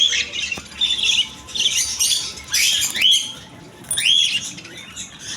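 Albino cockatiels let out repeated sharp squawks and chirping calls in quick bursts, loud and close, with a faint background hiss and no talking.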